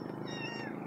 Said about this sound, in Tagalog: Ang cute pa naman ng pusa